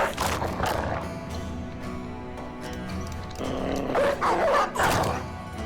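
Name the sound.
dogs barking in a video game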